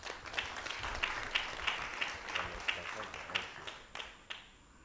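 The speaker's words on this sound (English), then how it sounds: "Clap for him, please." An audience at an annual general meeting claps at a steady rhythm for several seconds, the applause moderately loud and fading out toward the end.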